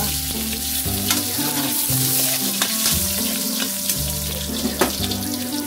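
Garlic sautéing in oil for chicken tinola, a steady close sizzle and crackle of frying with occasional scrapes of stirring, heard alone under a low background music bed.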